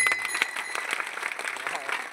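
Listeners at a Mahashivpuran religious discourse in Jalgaon Jamod clap repeatedly in a loose rhythm while a voice chants or talks over the claps, which stay moderately loud throughout.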